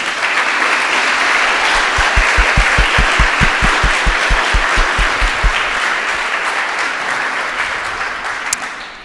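Loud, sustained audience applause at an opening lecture at Crystal Bridges honours Dylan, a dense roar of clapping that runs for about nine seconds and slowly tapers off, with a stretch of rhythmic low thumps partway through.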